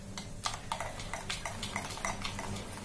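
Cupcake batter made with sunflower oil being mixed in a bowl, with quick repeated scraping and tapping strokes that are close and fairly loud over a steady background hum.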